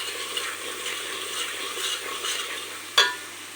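A ginger, garlic and coriander masala fries in a pan with an even, close sizzle, then a sharp metallic clink at the end.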